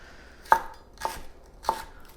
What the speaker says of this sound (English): I'm just gonna get some celery and I'm just gonna muddle it the same way